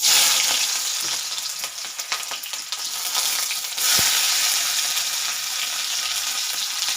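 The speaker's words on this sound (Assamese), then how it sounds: "এতিয়া পিঁয়াজখিনি অকণমান সময় ভাজি ল'ম।" Loud, dense sizzling of chopped onions frying in hot oil, with a few stirring scrapes and a brief clunk, no voices.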